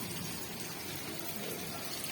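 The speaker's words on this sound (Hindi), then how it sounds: "अरे देखिए बारिश, कोई पता नहीं लगता मौसम का।" Rainwater gushing and splashing into a bottle wedged outdoors during a sudden downpour, a steady dense wash of water noise running throughout, close and continuous with no talk.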